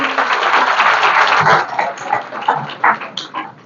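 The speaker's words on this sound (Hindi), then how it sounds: "ताली बजा दो साहब के लिए" Applause from a crowd at a police cyber security awareness camp in Gwalior, a steady wash of clapping that swells and then fades into uneven bursts.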